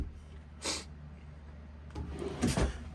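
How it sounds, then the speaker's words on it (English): Smaller drawers of a dresser in a 2022 Riverstone Reserve 3850RK luxury RV sliding open or shut, two soft separate wooden thumps and rubs about two seconds apart, close and quiet with no talk. "you have two of these smaller drawers."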